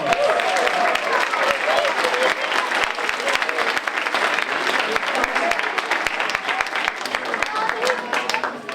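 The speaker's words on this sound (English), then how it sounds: "Give him a round of applause." An audience at a school creative arts evening gives a round of applause, with sharp, close claps over a steady roar of crowd clapping throughout, and voices talking over the noise.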